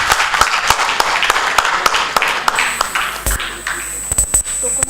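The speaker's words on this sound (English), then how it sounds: "A big round of applause to Shri Akbar Khan." Scattered, uneven hand claps rise from an audience at a CSR leadership talk, welcoming a guest named Shri Akbar Khan, with sharp individual claps standing out over a quieter room.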